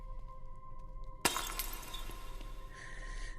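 A glass beer bottle shatters in a VR game with one sharp crash and a spray of tinkling shards, decaying over a low hum with faint background music.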